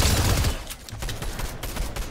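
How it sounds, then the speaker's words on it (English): Video game gunfire, a loud, dense barrage of rapid shots and cracks that dips briefly and then continues with scattered sharp reports. "There's more shooting over here."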